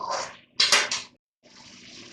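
Water splashes and pours in short bursts, then a steadier stream runs into a pot of rice and peas for pulao, close and moderately loud.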